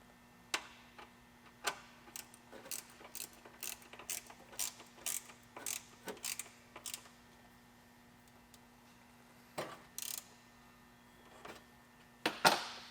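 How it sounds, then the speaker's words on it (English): A wrench snugs down a fender liner bolt on an oversized-tire high-clearance fender liner, giving quick quiet ratcheting clicks in short irregular bursts, close up, with no talking. "So I'm going to go ahead and snug down that bolt."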